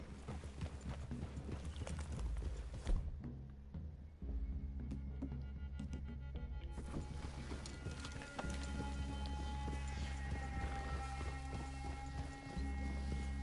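Horses clip-clopping along in Red Dead Redemption 2, hooves steady and close over a continuous game soundtrack, with a brief whinny in the mix.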